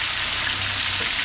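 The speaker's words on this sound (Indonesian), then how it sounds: "Goreng sampai semua bahan-bahan layu ya," Tomatoes, chillies and other sambal terasi ingredients frying in hot oil give a steady, close, loud sizzle with a low bubbling hum underneath, continuous for the whole stretch with no talking.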